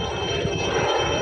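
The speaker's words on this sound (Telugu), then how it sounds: "హెలికాప్టర్ వచ్చిందిరా." A helicopter passes over a village, heard as a steady, moderately loud engine drone with no break, and no voices over it.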